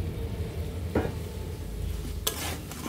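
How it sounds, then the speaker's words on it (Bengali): Fried rohu fish-roe koftas dropped into oily spiced masala in a pan, with a steady low sizzle, a soft thud near the start and a brighter clatter and hiss later on. "এখন আমরা ভেজে রাখা কোপ্তাগুলো দিয়ে দিব এর মাঝে।"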